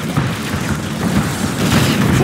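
Explosion in Command & Conquer 3: Tiberium Wars, a dense, loud, continuous boom with rumbling low-end bursts over a brief battle stretch.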